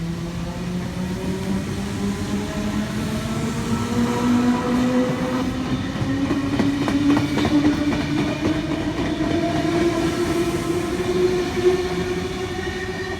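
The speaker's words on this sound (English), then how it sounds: "We have V2 passing through platform 3." A Sydney Trains V2 set runs through a station platform, a steady loud rumble of wheels and motors with rising tonal whine and faint clicking of rail joints, continuous throughout with no talk.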